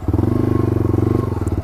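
A Yamaha TW200 motorcycle's single-cylinder engine thumps in a fast, even pulse while riding, loud and close throughout, with no voices.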